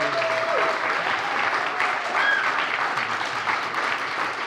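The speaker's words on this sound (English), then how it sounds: "as you soak in the applause" A school quiz audience applauds the winning team, steady sustained clapping from a crowd in a hall, moderately loud and even throughout.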